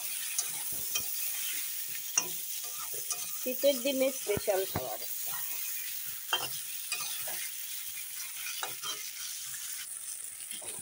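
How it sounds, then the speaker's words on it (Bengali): Brinjal slices seasoned with salt and turmeric fry in hot oil, giving a soft steady sizzle with occasional stirring scrapes and clinks. A voice speaks briefly over the cooking. "লবণ হলুদ দিয়ে বেগুনগুলো আমি সুন্দর করে একটু ভেজে তুলে নেব।"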